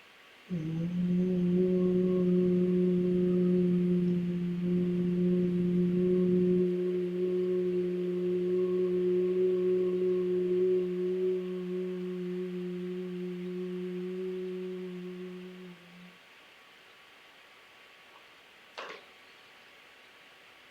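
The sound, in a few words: humming breath, Bhramari pranayama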